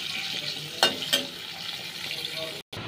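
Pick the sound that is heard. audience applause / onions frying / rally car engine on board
onions frying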